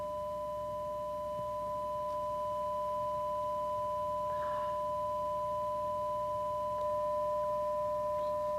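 A signal generator feeds a 600 Hz pure sine tone, played quietly at low amplitude, into an air-column resonance setup. It holds as an unbroken steady pitch beside a second, higher continuous tone, with faint background hiss.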